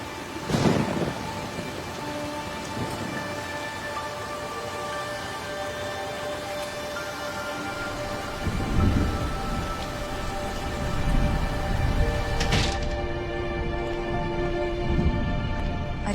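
Steady rain patters on surfaces throughout, with low thunder rumbling in the background and a few louder sharp crackles standing out. No voices are heard.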